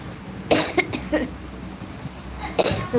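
Two sharp, loud coughs stand out, one early and one near the end, with a few smaller throaty bursts between them against a quiet room background.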